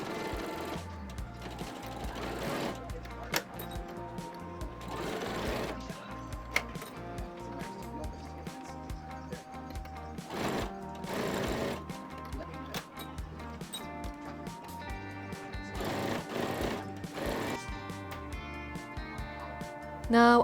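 A sewing machine top-stitches binding on a summer cami dress in short bursts of rapid mechanical chatter with pauses between runs, fairly quiet and close.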